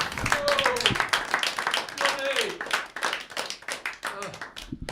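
A live audience claps to welcome the host of a comedy show, a scattered burst of clapping heard under continuing talk and cheering voices.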